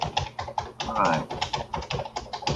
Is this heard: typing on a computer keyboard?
yes